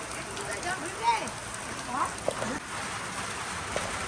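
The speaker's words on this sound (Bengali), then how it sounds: "আর সব আওয়াজ হবে টিনের। দেখো কি জোরে জল পড়তে লেগেছে।" Heavy rain drums steadily on a tin roof, a constant loud hiss of drops, with faint voices murmuring underneath.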